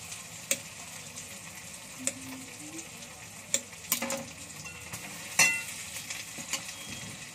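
Chopped tomato hitting hot oil with turmeric in a frying pan while cooking chole masala, giving a steady soft sizzle with occasional sharp clicks and scrapes of stirring, close and fairly quiet, with no voices.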